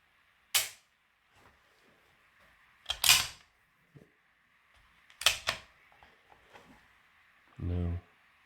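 Trigger being pulled on a SAR K12 pistol at a tabletop, a few sharp dry clicks spaced across the clip, close and crisp, with a brief low mechanical buzz near the end.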